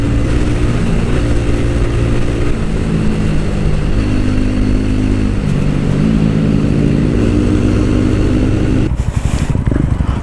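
A TVS Ronin 225 motorcycle being ridden on a road in Baglung, its engine droning loudly and steadily with shifting pitch under heavy wind rush, close to the rider.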